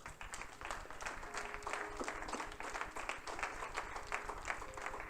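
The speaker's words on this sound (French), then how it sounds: "Acclame la parole du Seigneur." A church congregation applauding during a French-language sermon, steady dense clapping from many hands throughout, with faint tones and voices underneath.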